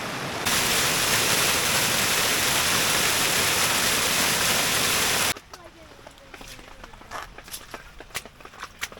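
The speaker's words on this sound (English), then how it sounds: "I'm gonna go down here and check out this little creek. I can hear it roaring from up here." A creek running high after heavy rain, its steady rushing roar loud for about five seconds before cutting to quieter ambience with light knocks and rustling.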